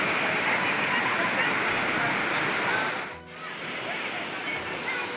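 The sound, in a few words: Manudevi waterfall flowing strongly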